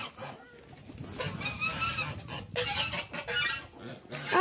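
Chickens on a farm cluck and squawk after being let out of their coop, several birds close by and busy, with faint background voices.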